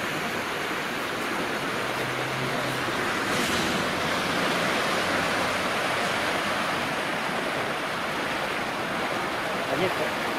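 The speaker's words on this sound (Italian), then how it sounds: "purtroppo l'acqua sta salendo ancora" Floodwater from a rising river rushes steadily beneath the Ponte Sant'Ambrogio bridge in Modena during a flood alert, a loud, continuous roar of churning water filling the whole stretch with little variation.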